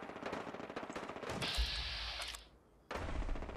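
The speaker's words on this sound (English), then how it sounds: "Yeah, it's gunfire." Rapid automatic gunfire in the post-apocalyptic video game Fallout 4, a dense stream of loud bursts that holds for a couple of seconds, cuts briefly to near-quiet, then resumes just as heavily.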